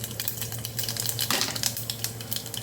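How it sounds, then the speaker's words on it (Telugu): Tempering seeds are dropped into hot oil for Nellore-style pappu charu, and a dense, close crackle of quick pops and sizzling spreads over a low kitchen hum for the whole stretch. "ఆయిల్ కొంచెం వేడెక్కాక తాలింపు గింజలు వేసుకోవాలి."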